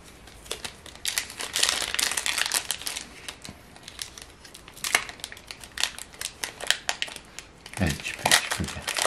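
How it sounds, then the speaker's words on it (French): A Pokémon card booster pack's foil wrapper is torn and crinkled open by hand in a series of sharp crackling rips and rustles, coming in uneven bursts that are close and fairly loud. "Je galère toujours un peu à ouvrir les boosters"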